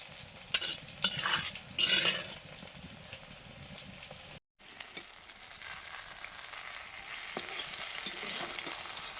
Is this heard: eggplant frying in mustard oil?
yes